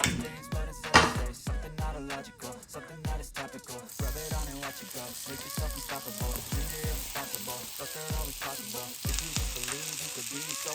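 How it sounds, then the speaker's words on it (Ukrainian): Beef steaks sizzle steadily in a hot frying pan with oil, a dense continuous crackle close up with occasional clicks and scrapes of the pan. "Кладемо наші стейки на розігріту пательню з додаванням олії."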